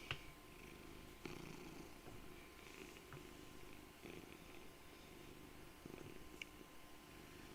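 A cat purrs continuously and softly close to the microphone, with a low rhythmic rumble and a few faint bumps, and no other sound.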